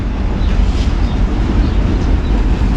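A Norfolk Southern local freight train led by a GP38-3 locomotive with three cars rolls past up close. A dense, steady low rumble and rattle continues throughout without a break.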